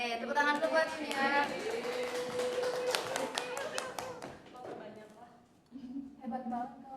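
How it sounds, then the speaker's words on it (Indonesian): Students in a classroom clap their hands in a dense, lively burst of applause over several seconds, mixed with chatter and talk in the room. "Oke, tepuk tangan dulu buat ini ya."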